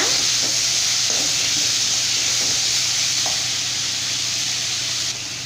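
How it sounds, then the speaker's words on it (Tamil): Onions and tomatoes sauté in a hot pan for chicken gravy: steady sizzling and frying, a constant bright hiss with faint stirring clinks, close and continuous throughout. "இப்போ இது எல்லாமே சேர்த்துட்டு நல்லா வந்து வதக்கி விட்டுக்கலாங்க"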